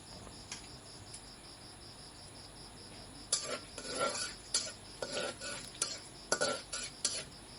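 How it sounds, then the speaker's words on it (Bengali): Whole cardamom, cinnamon, cumin, cloves and black pepper fry lightly in oil under a faint, steady hiss. Clattering stirring scrapes and knocks come in bursts partway through, and a chirping insect-like tone runs throughout. "3টে এলাচ, 2টো দারচিনি, কিছু কাঁচা জিরে, লবঙ্গ ও গোলমরিচ দিয়ে আমি ভালো করে তেলে একটু টেলে নিব।"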